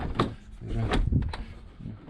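Side door of an Opel Movano van being converted into a camper slides open and shut, with a few clunks and a rolling scrape, close by, while someone talks briefly.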